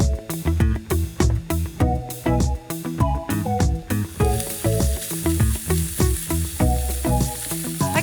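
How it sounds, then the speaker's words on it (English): Chopped bacon sizzles in a pan, a loud crackling fry punctuated by repeated sharp knocks and scrapes of stirring in an uneven rhythm, with the hiss growing denser toward the end. "if you start it as a cold pan and work your way up, what's going to happen is the fat's going to render, leaving you with crispy bacon"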